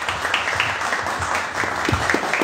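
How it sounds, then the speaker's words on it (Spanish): Applause from the audience at a round-table panel on Paraguayan literature, steady clapping of a modest crowd with a few louder individual claps standing out. "Aplausos también para vos"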